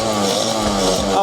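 An FRP GMB100 mini bike's two-stroke engine running close by, a loud, steady buzzing drone with a raspy, harmonic-rich tone throughout.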